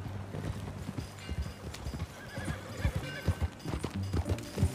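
Rhythmic hoofbeats of horses clip-clopping at pace in Red Dead Redemption 2, with a horse neighing partway through, fairly faint and close.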